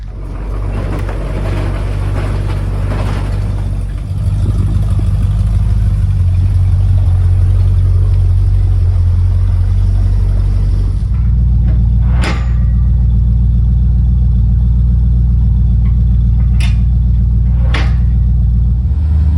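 A truck engine runs steadily up close, a loud continuous low rumble that shifts slightly in pitch partway through, with a few sharp clanks or taps standing out near the end; no one talks.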